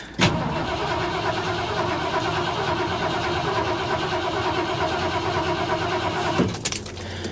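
An old truck that has sat unused for a long time cranks briefly and fires up, then settles into a steady, close rumbling idle, with another sharp mechanical clack near the end.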